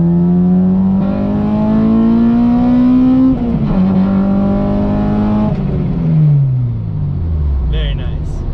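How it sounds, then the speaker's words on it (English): An Acura RSX four-cylinder is revved hard into VTEC, its engine note climbing steadily in pitch, breaking briefly, climbing again, then falling away as the throttle lifts; loud and close throughout. "I'm gonna do a little pull so you can hear the VTEC"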